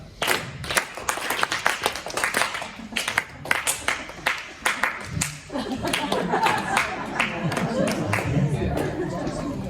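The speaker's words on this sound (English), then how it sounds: "Clap it for me." Students in a rhythm-reading class clap a written rhythm together, sharp uneven claps in a quick pattern for several seconds, then breaking into loose room chatter and scattered noise.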